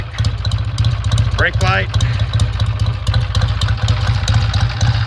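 A 1966 Triumph T120R motorcycle idles after a cold start, its steady loping twin-cylinder throb close and loud throughout, while someone briefly speaks over it.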